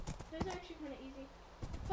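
Horse hooves clip-clopping from the video game Minecraft, a few sharp knocks in uneven rhythm at low level, with people talking over them.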